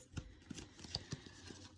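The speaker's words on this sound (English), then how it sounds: "Now I am going to just shuffle one more card for that last one." Tarot cards are shuffled by hand in short, soft, papery riffles and taps repeating irregularly, close and quiet, with no talk.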